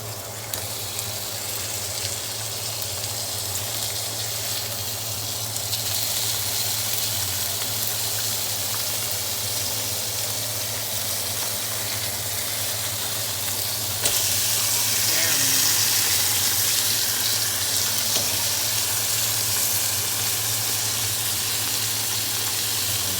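A burger patty seasoned with salt sizzles and fries in a pan, a steady broad hiss that brightens partway through and runs continuously for over twenty seconds beneath a low hum.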